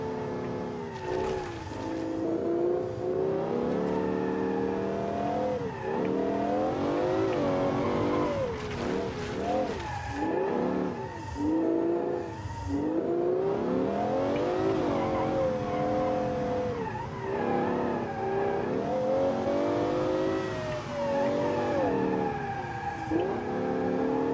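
LS12 Automation supercar in BeamNG.drive held at full throttle, its engine howling and rising through the revs with gear-linked dips and brief tire squeal, loud and continuous with no talking.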